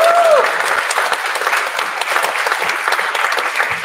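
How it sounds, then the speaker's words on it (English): Guests at Joe and Jen's wedding break into loud, sustained applause, a dense, steady wash of many hands clapping close by with no talk over it. "Give a big round of applause"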